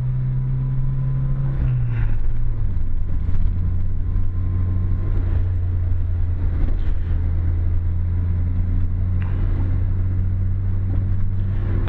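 An Initial D AE86 car drives the mountain road on Mt Akina, its engine note dropping in pitch after a couple of seconds, then settling into a steady cruising drone with road rumble, heard from close by.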